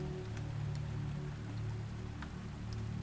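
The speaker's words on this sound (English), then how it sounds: "The rain patters against the windows." Steady rain patters against windows on a rainy night, a soft continuous wash with faint scattered droplet ticks, low and even throughout.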